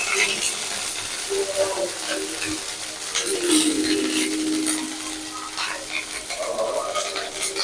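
Ginger and cumin paste frying in a pan, a steady close sizzle with soft scraping and stirring scrapes throughout, no talking.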